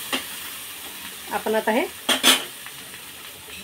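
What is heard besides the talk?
pigeon pea grains roasting in a pan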